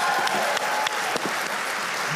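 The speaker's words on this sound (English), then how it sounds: "Let's give them another round of applause" Steady applause fills the room for student choir and band performers at a gospel master class, dense clapping throughout at even loudness, with no voice over it.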